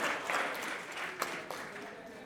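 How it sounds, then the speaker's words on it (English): At a creativity keynote at a San Diego conference, the audience claps for everyone on stage. The applause is soft and steady, with a few sharper individual claps standing out. "Let's give everybody a round of applause."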